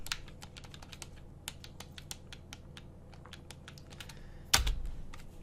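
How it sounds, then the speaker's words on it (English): Computer keyboard keys, including the spacebar, tapped while playing the Jailbreak game: quick, close, irregular clicks throughout, ending in one louder, heavier press near the end, with no talk. "Pressing spacebar, not too late."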